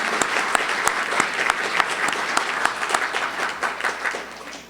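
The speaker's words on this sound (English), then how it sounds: "Please join me in offering a round of applause to our winter quarter sponsors" Luncheon audience applauding sponsors at a civic club event: a full, even round of many hands clapping close by, sustained for about five seconds before tapering slightly at the end.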